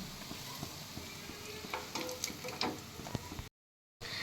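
Chhana kofta frying in hot oil gives a steady, faint sizzle with scattered small crackles and pops, close by, with a brief gap of silence near the end and no talking.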